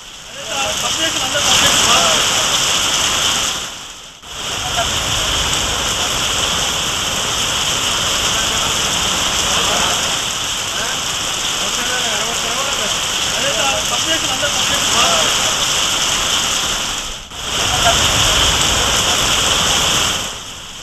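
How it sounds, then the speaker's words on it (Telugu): Heavy rain falling in Nirmal town after hours of nonstop downpour, a loud dense hiss and patter that continues without a break, with two brief cuts. "నిర్మల్ జిల్లా కేంద్రంలో 3 గంటలుగా వర్షం ఏకధాటిగా కురుస్తూనే ఉంది"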